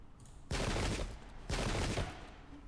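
Musket volleys in a Revolutionary War pike-and-shot strategy game: two long crackling bursts of massed fire, each about half a second of dense rattling shots, separated by a brief lull, loud and close.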